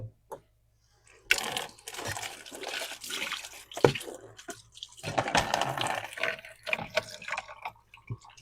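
Running water splashes and gurgles into a sink or basin to soak a silk screen, with a brief quiet start and then a steady, close, uneven flow.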